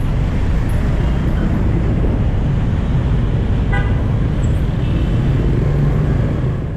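Busy Saigon street traffic on Le Thanh Ton in District 1, Ho Chi Minh City, with a steady close roar of motorbikes and cars and a brief horn toot near the middle, no talking.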